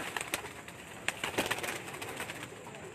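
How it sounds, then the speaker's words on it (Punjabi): Pigeon cooing from a breeding pigeon, soft repeated coos among other birds in an outdoor loft, steady and moderately near with no talk. "ਤੋਂ ਇਹ ਅਲੀ ਵਾਲਾ ਮਾਸ਼ਾਲਾ ਕਬੂਤਰ"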